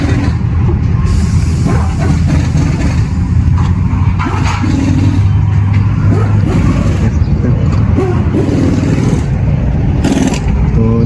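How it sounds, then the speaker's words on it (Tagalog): A DA64B vehicle idles after a coolant flush with the air conditioning switched on, a steady, fairly loud engine rumble running throughout, with brief clanks and background noise layered over it. "So, naka-on yung makina, no?"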